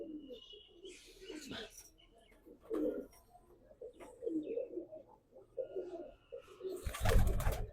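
Low, throaty cooing of kundi pigeons repeats through the clip amid a busy outdoor backdrop, with a burst of loud clattering near the end.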